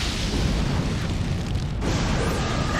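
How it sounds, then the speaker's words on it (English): A fireball jutsu fire-style attack in the Naruto Ultimate Ninja Storm game roars as one continuous, loud rumbling blast. The roar holds steady for nearly three seconds with a slight shift partway through, and no voice is heard over it. "Fireball jutsu!"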